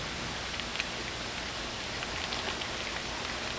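Rain falls steadily close by, a dense, even hiss with scattered droplet taps and no voices.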